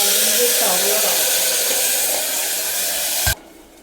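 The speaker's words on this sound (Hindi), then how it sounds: "चिमनी मेरी बहुत ज़्यादा आवाज़ कर रही है" A loud, noisy kitchen chimney exhaust hood running while rice khichdi is cooked, giving a steady broadband roaring hiss that stops abruptly near the end, leaving a faint quiet room.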